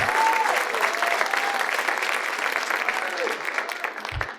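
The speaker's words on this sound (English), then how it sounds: "Give him a round of applause" An audience at a comedy club breaks into loud, sustained applause for a stand-up comedian, with clapping and some cheering filling the room evenly before it briefly drops off.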